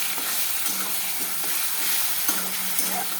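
A spice paste of tomato, ginger, garlic, onion and cumin powder frying in a pan, a dense continuous sizzle with occasional soft stirring knocks, close and loud.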